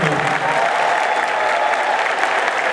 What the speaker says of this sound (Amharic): እስቲ አጨብጭቡ እባካችሁ ለጌታ።